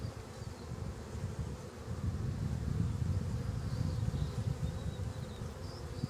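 Honey bees buzz steadily in an opened hive during an inspection, a dense, continuous low drone that stays close and fairly loud throughout, with no talking.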